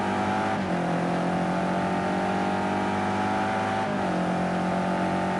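The engine of a BMW GT3 race car in a racing game, heard from onboard, drones loud and steady at high revs, with brief pitch drops at the gear shifts.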